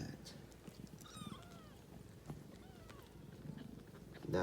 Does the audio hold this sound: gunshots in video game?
no